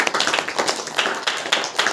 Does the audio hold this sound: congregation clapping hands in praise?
yes